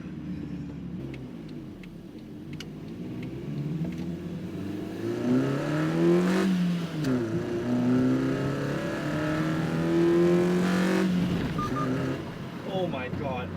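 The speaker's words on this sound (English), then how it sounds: "This engine is loud, so hopefully you can hear the intake over it." A Honda Fit engine fitted with an HPS intake revs and accelerates from inside the car, a rising, falling engine drone with intake roar through several gear pulls, loud and steady, with someone talking over it.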